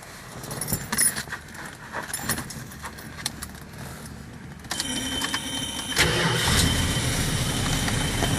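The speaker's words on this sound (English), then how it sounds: "Gotta love the sound of the Mopar starters" A 1971 Dodge Coronet cranks over on its Mopar starter and the engine fires, settling into a louder steady running note after some quieter mechanical rattling at the start.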